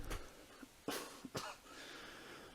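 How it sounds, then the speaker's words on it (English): A soft, muffled cough, a couple of quick low bursts, close by and quiet, with faint room noise after. "I had to do a very quiet cough there."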